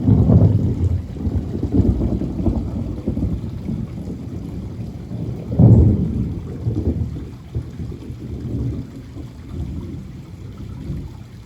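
Thunder rumbles through a severe thunderstorm, a low continuous roll with a heavier crack about midway, set against steady rain and wind noise on the microphone.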